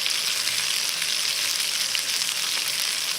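Food frying hard in a pan during a live cooking session inside a cave, a loud steady sizzle with no talking.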